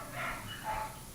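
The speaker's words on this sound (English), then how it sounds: "Oh, we've got a sad dog." A sad dog whines and gives soft, muffled barks. The sounds are faint and distant and sit under a steady room hum, with no talking.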